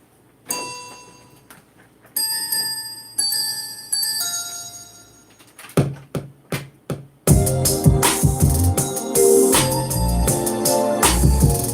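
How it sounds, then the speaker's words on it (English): Bright chiming bell tones play a melody in repeated phrases, then sharp percussive hits join and a full beat kicks in with the bells layered on top, made on an Akai MPC. "You gotta have bells on there."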